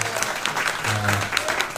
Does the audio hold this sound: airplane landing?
no